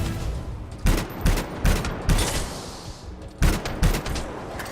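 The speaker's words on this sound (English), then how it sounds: "I hate this gun. The fire rate is too slow for me." A slow-firing gun in Anthem fires in spaced single shots, each a loud, punchy crack with a short tail, about eight in a loose rhythm with a brief pause midway.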